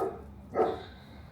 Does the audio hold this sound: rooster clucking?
no